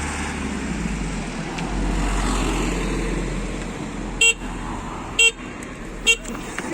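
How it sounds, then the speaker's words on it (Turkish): Three short car horn honks sound over rumbling road traffic, each a brief loud toot spaced about a second apart. "Üç, üçüncü korna."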